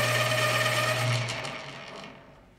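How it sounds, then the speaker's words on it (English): A pencil grinds in a sharpener with a steady, close mechanical whir that winds down and fades over the last second. "I gotta sharpen my pencil now after that."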